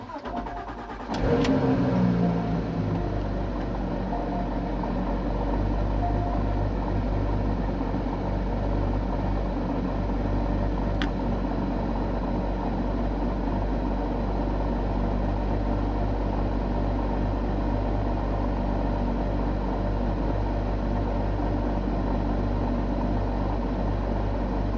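Porsche 911 GT3 991 engine and exhaust droning while driving: a steady, loud, low hum that holds unbroken for the whole stretch, heard from inside the car.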